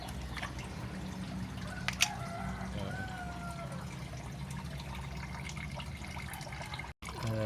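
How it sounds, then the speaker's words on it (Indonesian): Old coolant drips and trickles from the opened radiator of a third-generation Honda CR-V, a steady faint liquid patter with a few brighter droplet hits, heard up close over a low background hum. "Jadi kita tunggu sampai benar-benar nggak ada air coolant yang menetes."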